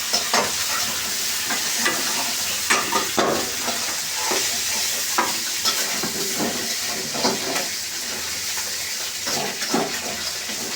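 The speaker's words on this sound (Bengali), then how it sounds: "এবার আমি মাছটাকে একটু ভেজে নেব।" Fish frying in hot oil in a pan, a loud, steady sizzle with bursts of crackle and a few stirring scrapes, close up and without talk.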